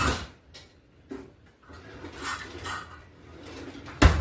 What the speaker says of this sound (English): I'm going to use a different blade that I got over here in a drawer